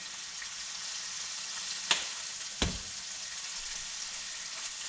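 Crappie fillets fry in a pan with a steady, soft, even sizzle, broken by two quick sharp clicks or pops partway through.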